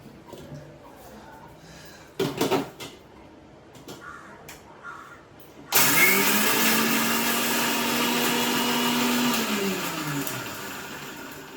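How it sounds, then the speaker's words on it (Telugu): Mixer grinder (mixie) grinding dried red chilli and tomato chutney, a loud whirring motor that kicks in suddenly after some clatter and crow caws, running steadily before winding down. "ఇప్పుడైతే ఫస్ట్ ఇది మిక్సీ పట్టుకుందామండి"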